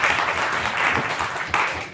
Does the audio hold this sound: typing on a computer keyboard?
no